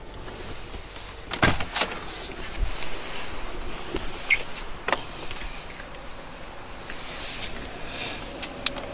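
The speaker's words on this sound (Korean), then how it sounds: "헤드레스트 위치를 올리고 내리고 가능한데요." Electric motor whirring in short bursts as a Tesla Model S power headrest moves up and down, close and fairly quiet, with a few faint clicks over a low steady cabin hum.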